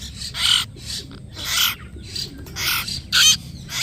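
A hill myna chick gives a series of loud, harsh, raspy calls in short repeated bursts, about five or six of them, close by over a low background rumble.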